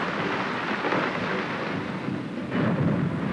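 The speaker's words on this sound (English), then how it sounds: "white thunder, because that's exactly what it is, to suddenly have a sheet of ice fall" Sheet of glacier ice calving and falling in an Alaskan bay, a distant rumbling roar that surges again toward the end, with no voices.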